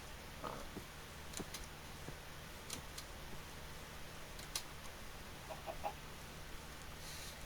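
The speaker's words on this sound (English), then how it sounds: "Chickens." Chickens in Minecraft give scattered soft clucks and a few light ticks over a low steady background hum, faint and sparse.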